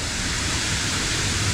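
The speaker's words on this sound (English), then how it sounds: "a must-see waterfall in the Upper Peninsula of Michigan." Steady, dense roar of a large waterfall in the Porcupine Mountains of Michigan's Upper Peninsula, a broad unbroken rush filling the air close by and alone, with no voices over it.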